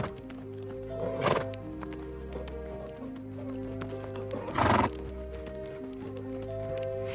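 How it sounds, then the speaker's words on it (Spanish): Horses at a farm whinny twice in loud, bright bursts, with soft clip-clopping hooves and a light musical bed running underneath throughout. "observando los caballos que pastaban tranquilamente en la distancia"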